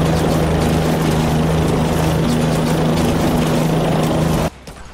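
Helicopter rotor and engine drone in the video game Yet Another Zombie Survivors, a loud, steady, continuous hum that cuts off abruptly near the end.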